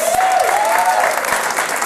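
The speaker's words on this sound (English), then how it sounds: "Everyone give her a round of applause." A studio audience gives a round of applause for the floor manager during a live television show recording, steady and sustained clapping with a faint tone gliding above it.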